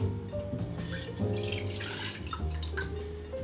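Tap water runs into a container to make cane sugar syrup, a continuous close splashing and gurgling stream at moderate volume, with no talking.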